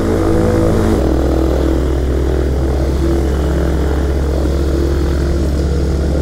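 A light propeller airplane's engine drones loud and close on the runway, a steady, continuous rumble with a slight shift in pitch near the start, with no talk over it.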